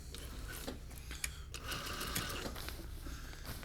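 A sewing machine runs steadily as it stitches a seam through a down jacket, with a continuous close mechanical whir and faint ticking throughout and no talking.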